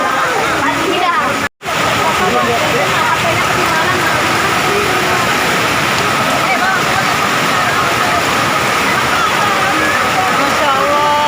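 Flash floodwater in Lombok rushes through a garden as a loud, unbroken torrent roaring close by, with a momentary dropout near the start and voices at times beneath the din.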